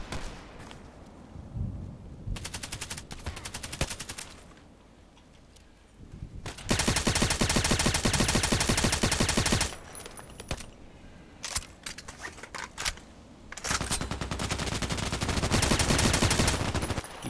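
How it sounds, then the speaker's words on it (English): Bursts of gunfire ring out in the online shooter Contract Wars on the Old Sawmill map, loud rapid volleys broken by short pauses and single sharp shots, heard alone with no talk. "Ah, already a sniper here. Shooting at me,"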